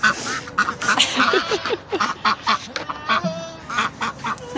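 Farm ducks quack in quick, repeated bursts, several calls overlapping in a lively, fairly close chorus with no talking.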